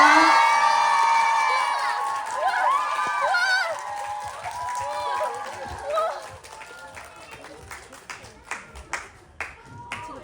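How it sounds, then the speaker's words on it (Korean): A crowd greets a band at a cinema stage greeting with high excited cheers and screams that fade into steady clapping, ending in a string of separate claps. "큰 박수로 맞아주세요."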